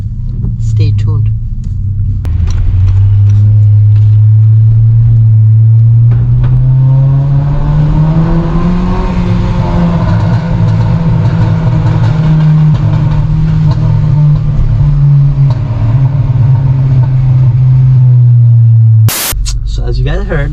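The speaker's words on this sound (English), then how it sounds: "let's enjoy this exhaust for one last time" An Acura TLX with an aftermarket exhaust and intake rumbles loudly and steadily for about twenty seconds, a deep droning tone that rises slightly mid-way without sharp revs, then cuts off abruptly.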